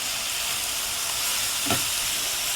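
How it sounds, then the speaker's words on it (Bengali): Vegetables sizzle steadily in hot oil with turmeric and salt, a constant close hiss with one brief stir-like swell in the middle, and no talk. "এগুলা ভাজি করব"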